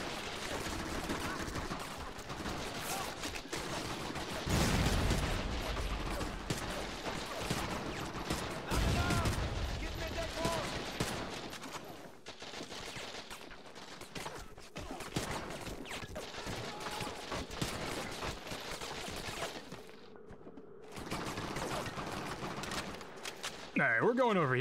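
Rapid gunfire in Medal of Honor: European Assault during a farmhouse liberation mission, with sustained volleys and scattered shots mixed with game effects and a voice talking over them.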